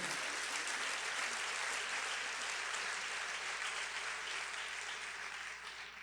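Steady applause from a church congregation, dense and even, slightly distant and fading a little toward the end.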